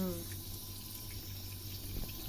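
Tap water runs steadily into a sink during washing, a soft, even rush with faint voices in the background.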